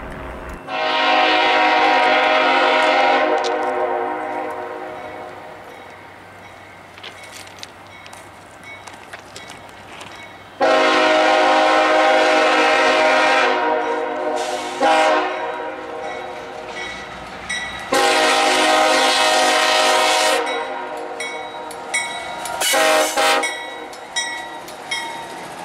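Freight train B710-21 rolls past at Hamilton, its loud horn blasting in long sounds separated by pauses while the rumble of the cars continues underneath, near and powerful.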